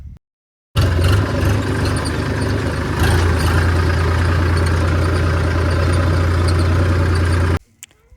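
A Gujarat tractor, model 8055 or 7250, runs with a loud, steady diesel drone close by, starting abruptly after a short silence and cutting off near the end.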